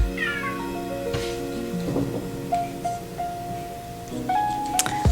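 A pet cat meows repeatedly indoors, a string of drawn-out, wavering calls at moderate volume, close by and alone, with a faint rustle and a sharper cry at the end.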